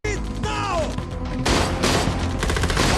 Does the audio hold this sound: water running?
no